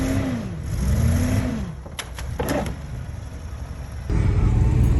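A JDM resto-mod car engine idles and rumbles as the car is driven slowly in first gear, with a rising and falling rev, a few sharp ticks and clunks, then a louder, steadier rumble near the end.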